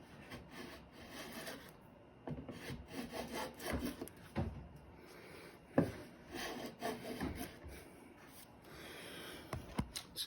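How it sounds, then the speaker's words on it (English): Hand plane shaving along the edge of a wooden train table, a few quiet rasping swipes with scraping strokes and soft knocks between them, close and faint. "We'll just take a couple swipes with the hand planes."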